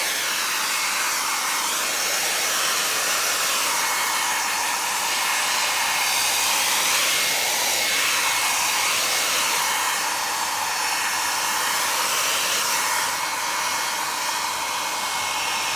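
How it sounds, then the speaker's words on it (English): A hairdryer blows steadily and loudly throughout, drying freshly applied dye on the leather pleats and piping of a Riley Pathfinder seat during repair, with a continuous airy roar and slight wavering in pitch. "when you're using a hairdryer and you're using it to dry all these things"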